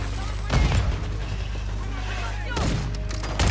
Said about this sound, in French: ça pète partout dans ce mode de jeu